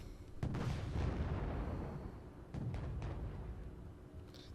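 Cluster artillery shells landing in a Wargame Red Dragon battle, a cascade of heavy booms and rumbling blasts with two separate volleys of impacts, loud and close, followed by a lingering low roar.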